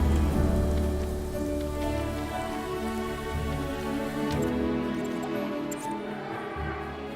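Steady rain falls in the video game Prehistoric Kingdom, a dense, even patter of drops hissing on surfaces that continues unbroken without any voices.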